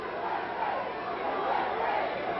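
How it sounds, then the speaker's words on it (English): Wrestling arena crowd chanting USA as the Cuban Assassin enters the ring, a steady, dense roar of many voices rising and falling in rhythm throughout, fairly distant and continuous. "Crowd now chanting USA"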